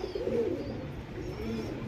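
Close, steady cooing from a pigeon pair, a Sabja male and a Rakdar female, droning in low rolling murmurs throughout with no voices.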